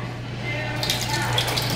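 Tap water runs from a gas-pump-style faucet into a restaurant sink, a steady close rush that swells brighter partway through, with faint background murmur beneath.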